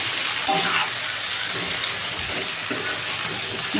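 Chicken fry sizzling in a pan as curry leaves go in, a steady hiss of hot oil with a few brief louder spits and crackles, close and continuous, no talk.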